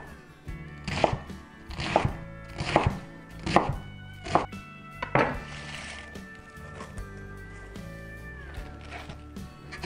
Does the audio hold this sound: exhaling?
no